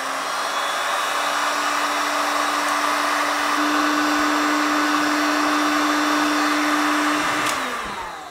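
A heat gun blows continuously while shrinking flexible heat-shrink tubing on a wire harness for a classic Porsche 964, a steady close whooshing hum with a tonal whine, fading at the end.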